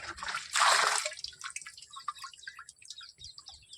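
Fish amino acid liquid fertilizer splashes as it is poured into a mix for traditional Poongar paddy farming, starting with a loud gush followed by lighter trickles and drips.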